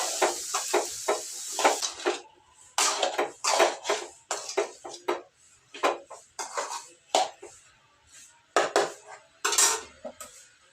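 Radish curry ingredients being mixed in a pan with a utensil, giving a run of close, irregular clinks and scrapes in quick bursts separated by short pauses, with no one talking.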